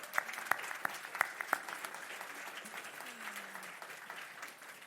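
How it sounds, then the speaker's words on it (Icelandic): An audience claps for award recipients at a women's business association awards ceremony, with a few sharp individual claps standing out over a moderate, fairly close round of applause that gradually fades. "Ég vil við gefa þeim gott klapp"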